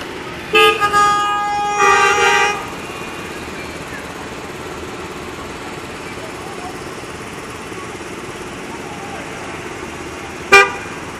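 Busy street traffic with several car horns honking close by in a loud burst near the start, then a steady traffic rumble and one more short sharp honk near the end.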